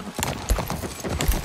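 Horse hooves in The Last of Us Part I video game clop in a steady, fairly quick rhythm, moderately loud and close, with no talk over them.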